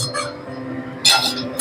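A metal lid set onto a cooking pot of tomato, onion and vegetables gives a light clink near the start, then two brighter clinks near the end, close and fairly loud over a quiet kitchen.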